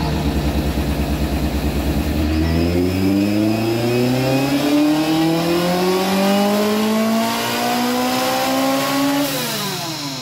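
Engine of a Lancia Rally 037 Group B restomod revving up from a throbbing, uneven idle, pitch climbing steadily for several seconds before dropping back, loud and close with no talk.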